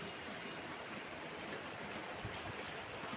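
Light drizzle trickles off tiled roof eaves, making a faint, steady hiss of falling water with no voices over it.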